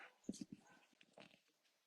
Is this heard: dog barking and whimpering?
yes